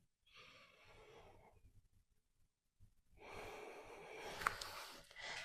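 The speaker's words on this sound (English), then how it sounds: "Breathe deeply." Slow, deep breathing during a yoga flow, a soft breath in, a quiet pause, then a longer, louder exhale with a slight rasp, close and alone.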